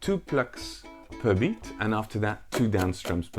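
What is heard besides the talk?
No everyday noises stand out.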